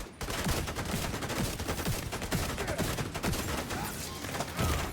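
Dense gunfire in The Division 2, a loud, continuous fusillade of rapid shots and bursts from several weapons throughout, with no speech over it.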